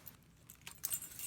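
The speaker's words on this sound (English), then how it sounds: "So I have my keys on the key fob." Keys on a key fob jangle quietly inside a bag, with a few faint metallic clinks and rustles that brighten toward the end.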